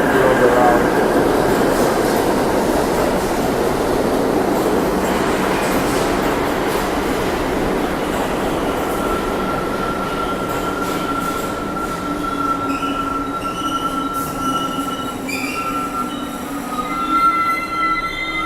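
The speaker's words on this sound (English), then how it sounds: "just the train coming down, it makes you change what you're doing" A loud subway or metro train rolls past close by, a steady heavy rumble with clickety-clack wheel noise and long high-pitched wheel squeals rising toward the end, filling the whole stretch.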